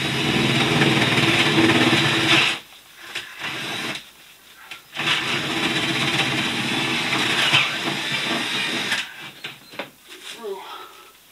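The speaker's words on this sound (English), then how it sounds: "It's a lot easier to drill that through." A loud, steady whir of a power drill with a 1/2-inch bit drilling through in a basement for light wiring, running in long bursts, stopping and restarting a few times, close by.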